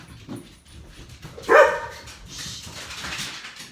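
A dog lets out a sharp bark close by, followed by softer whining and yips, with no talking.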